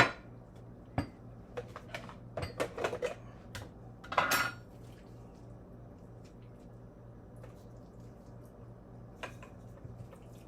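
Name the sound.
mixing salmon roll ingredients in a bowl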